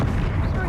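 A Confringo explosive spell from Hogwarts Legacy rumbles in a brief, dense, boomy blast with heavy low-end energy, tangled with voices and combat noise.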